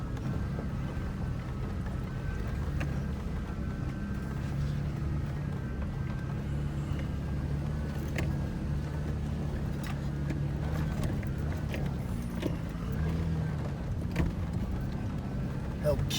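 An off-road vehicle four-wheeling slowly across ranch terrain, its low engine rumble steady and continuous throughout, with someone talking over it.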